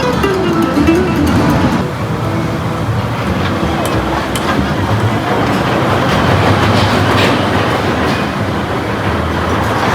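An old-school Schwarzkopf roller coaster, Shockwave at Six Flags Over Texas, roars and rattles loudly and continuously through the ride, with a brief rising whine at the start.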